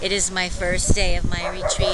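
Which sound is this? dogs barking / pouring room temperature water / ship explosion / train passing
dogs barking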